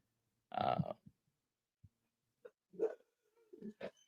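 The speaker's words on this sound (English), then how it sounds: "If you hear my dog, sorry about that. I think there's someone at the door, so he's barking." A dog barks at someone at the door indoors, giving a few short, muffled barks and grunts separated by quiet gaps.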